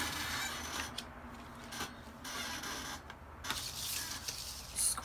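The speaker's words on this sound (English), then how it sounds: "I'm going to score this one in half." Card stock is scored down the middle with a tool, giving quiet scraping and rubbing strokes in short repeated passes, close and faint, with no talking.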